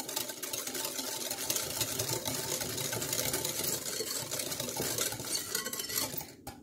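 Eggs and sugar are mixed by hand with a whisk for a gluten-free pastry, giving a quick, continuous scraping and clattering against the bowl that is fairly faint, then stops abruptly at the end.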